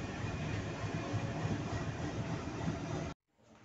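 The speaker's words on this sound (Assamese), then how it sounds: "ট্ৰেইনটো আহিল।" A train rumbles steadily past a closed railway crossing gate in a village, loud and close with continuous wheel clatter for about three seconds before the sound cuts off abruptly.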